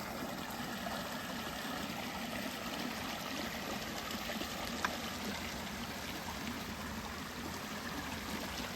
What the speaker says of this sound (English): Oh yeah, I didn't even know there was a creek over here